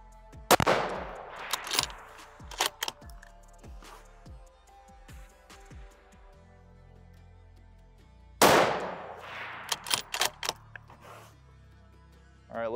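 Ruger Precision Rifle in 6.5mm Creedmoor firing at targets on an outdoor range, two loud sharp reports each followed by a string of rapid echoes and ringing metal hits, with quiet gaps between.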